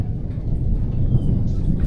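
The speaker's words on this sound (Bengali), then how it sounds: "আকাশ ডাকতেছে প্রচন্ড পরিমাণে" Thunder rumbles low and continuous overhead just after rainfall in rural Bangladesh, a deep rolling murmur sustained through the short stretch with no talk.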